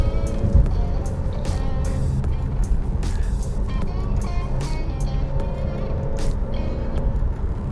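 A 2025 Alfa Romeo Stelvio Competizione crossover SUV driving on mountain roads, its engine a steady loud drone with rising and falling tones and road noise, heard from inside the car.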